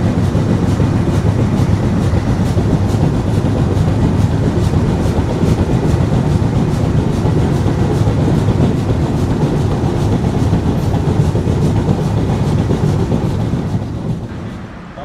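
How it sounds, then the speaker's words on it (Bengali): The Chitra Express passenger train between Khulna and Dhaka in Bangladesh runs on the rails with a loud, continuous heavy rumble and rolling clatter that holds steady for the whole stretch and eases slightly at the end. "এখন আবার চলতে শুরু করলো আমাদের ট্রেন চাটমোহর রেলওয়ে স্টেশনের উদ্দেশ্যে।"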